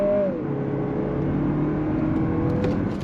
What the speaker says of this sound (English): we're gonna go on throttle from a dead stop, show you that all-wheel drive